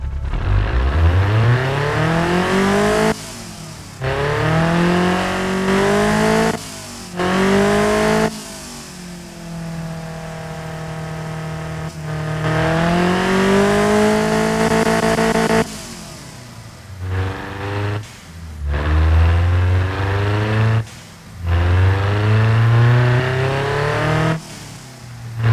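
A tuned, turbocharged 1977 Pontiac Iron Duke four-cylinder revs repeatedly, each loud pull rising in pitch before dropping off. Short breaks separate the bursts, and the engine stays close and dominant throughout.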